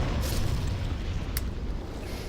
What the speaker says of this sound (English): God, those explosions are strong enough to kill the slugs.